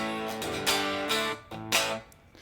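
Electric guitar through an Alpaca Rouge, a Red Llama-style overdrive model on a Helix, with a few loud, gritty strummed chords ringing out and cutting off, close and alone.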